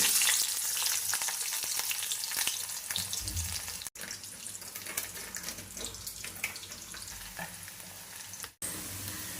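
Bitter gourd and onion fry in a pan with a steady, loud sizzle and crackle throughout. Scraping stirs cut in now and then, and two brief dropouts break the sound.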